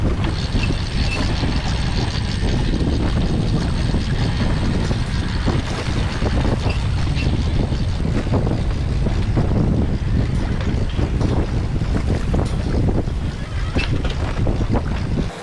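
Mainsail being hoisted on a sailing yacht heading into the wind: continuous wind rush and buffeting over creaking rigging and mechanical rattles, steady and close throughout.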